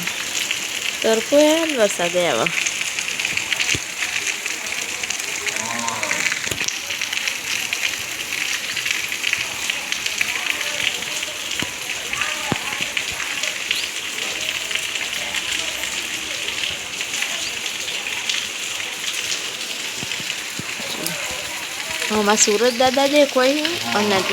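Heavy rain pours down outside Dudheshwar Mahadev temple, a dense steady hiss of drops on hard surfaces lasting the whole stretch, with people talking now and then over it.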